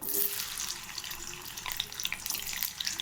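Hot oil hisses and crackles with bright popping sizzles as chopped small shallots fry for mutton sukka, a continuous sputter with no talking.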